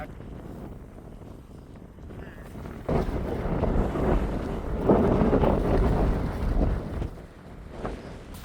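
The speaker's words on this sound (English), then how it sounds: "The wind is still a little too strong" Strong wind in Idaho buffets the microphone in rising and falling gusts, roaring loudest in the middle before easing slightly.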